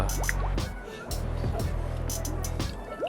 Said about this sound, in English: pump it up and down, get the bubbles out.